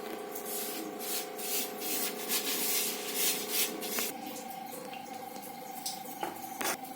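Maida being sifted for shankarpali gives a steady, close dry rubbing and sanding rasp that runs continuously, with a few sharper scraping taps near the end.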